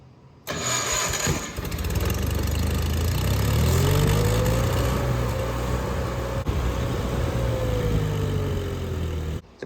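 A Miller Bobcat 225 portable welder's engine, 50th anniversary model, cranks briefly, catches and settles into a steady, loud idle with a faint rising and falling whine, running alone for several seconds.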